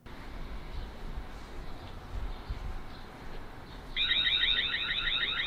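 Tapo ColorPro security camera alarm siren triggered by motion outdoors: after quiet ambient background, a shrill pulsing electronic warble starts abruptly and continues steadily at moderate volume.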